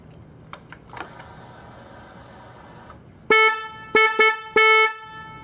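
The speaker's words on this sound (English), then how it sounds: "All right, here's the new horn." A few faint clicks, then four loud honks of a newly installed motorcycle horn nearby: one long blast followed by three shorter ones in quick succession.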